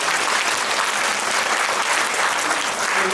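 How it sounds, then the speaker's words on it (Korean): A room full of attendees applauds at a Gyeonggi Provincial Council policy forum on long-term care workers' conditions, producing a loud, dense, even roar of clapping that holds steady throughout. "우리 최민영 팀장님께 우리 박수 한번 부탁드리겠습니다."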